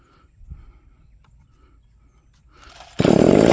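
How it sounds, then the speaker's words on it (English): A Stihl FS45 straight-shaft weed trimmer sits quiet for a few seconds with faint handling noises, then its small two-stroke engine abruptly catches and roars loudly near the end. "let's test out our weed trimmer here with the straight shaft. Let's crank this bad boy up."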